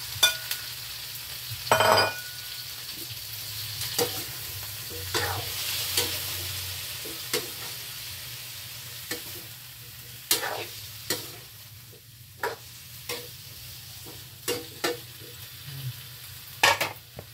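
Vegetables stir-frying in a pan, a steady low sizzle broken by frequent irregular scrapes and clanks of a utensil against the pan, close and fairly quiet, with no voices.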